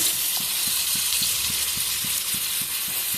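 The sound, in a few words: stirring paneer with cumin powder and salt in a pan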